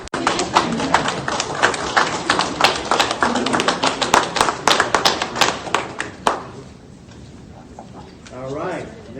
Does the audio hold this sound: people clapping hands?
yes